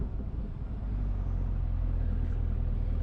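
A Camaro ZL1 on its stock exhaust rumbles with a deep, steady low drone that swells after a moment and holds at a constant level, heard close with no talk.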